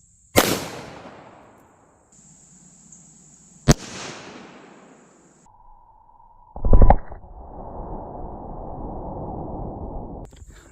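A .45 ACP pistol fires into a cantaloupe with one sharp, loud report near the start and another crack a few seconds later, followed by a burst of thumping impact noise and a lingering rumble.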